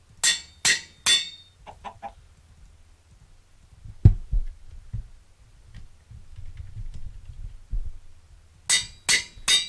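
Minecraft chickens clucking in a video game, sharp bursts at the start and end with softer scattered clucks and ticks between, fairly close and alone with no talk.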